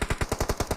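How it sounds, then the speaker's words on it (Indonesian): Rapid automatic gunfire in the battle royale game PUBG Mobile, about eight evenly spaced shots in under a second, crisp and moderately distant, with no talk over them. "Nah itu tembakan mah."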